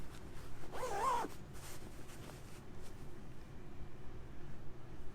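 An invisible zip on a fabric cushion is pulled in one quick, brief rasping stroke, followed by quiet room ambience.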